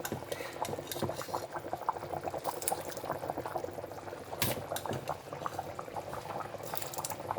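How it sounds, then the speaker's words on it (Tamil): Water boiling hard in a cooking pot for mutton biryani with jeeraga samba rice, a steady close bubbling and gurgling that runs continuously without any voices. "இப்போ வந்து இந்த தண்ணி நல்லா கொதிக்க ஆரம்பிச்சிருச்சு"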